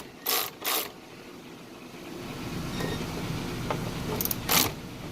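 A hand ratchet works on a bolt at a Hummer H1 battery terminal: short bursts of quick clicking come in two pairs, at the start and near the end, quiet and close over a faint background hum.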